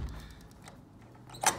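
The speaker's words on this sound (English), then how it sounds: "So close the door." A motel room door on the Pacific Coast Highway in Malibu swings shut after quiet room tone and ends in a single short, sharp thud.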